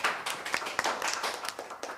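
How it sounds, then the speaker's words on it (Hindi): Audience clapping at a Hindi film press conference, a quick burst of scattered claps from a modest crowd, fairly close and steady for a couple of seconds. "अब मैं चाहता हूँ इसके लिए ताली आप बजाएं प्लीज"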